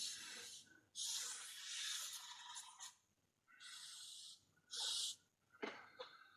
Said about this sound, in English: Really just give it a little spray around the edge of the hood